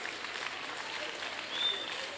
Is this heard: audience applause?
yes